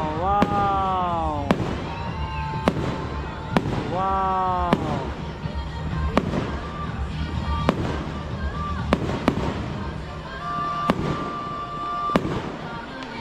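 Fireworks burst at Fiesta Adventure Park in Lipa City, Batangas: about a dozen sharp bangs at irregular intervals, some preceded by whistling tones, while onlookers exclaim nearby.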